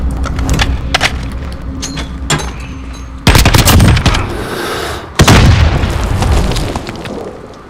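Gunfire in the Modern Warfare video game: scattered close shots and bursts, then two heavy booming volleys with sustained rattling fire, loud against a busy battlefield background.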